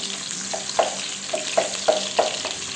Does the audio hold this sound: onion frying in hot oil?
yes